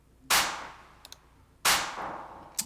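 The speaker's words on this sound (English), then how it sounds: "you can hear this clap or gunshot sound effect" Two sharp, loud clap-like gunshot hits from a rap beat sound effect ring out about a second apart, each with a bright crack and a decaying tail, with faint ticks in between.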